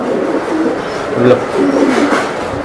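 A racing pigeon cooing close by, soft throaty rolling calls repeated over a couple of seconds, with a faint voice in the background.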